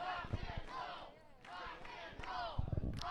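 A wrestling crowd at an independent show roars and chants in surging waves, fairly distant and somewhat muffled, with several swells of shouting rising and fading over a few seconds.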